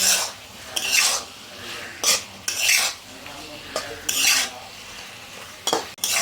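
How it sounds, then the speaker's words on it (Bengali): Ridge gourd being stir-fried with spices in a pan, a spatula scraping and stirring in repeated short bursts against the metal over a soft, steady sizzle, close and moderately loud with no talking. "ঝিঙেটা একটু ভালো করে মশলার সঙ্গে কষিয়ে দিচ্ছি"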